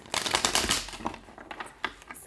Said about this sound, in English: Why am I having a challenge with shuffling today?